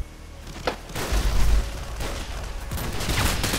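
Dense gunfire bursts and a heavy boom from the Modern Warfare 2 video game, a continuous loud fusillade with a low thump near the middle, no talk over it.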